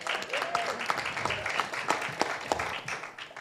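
Moderate council meeting audience applause in a city hall chamber, with scattered individual claps rising and fading over a short stretch alongside faint background murmur.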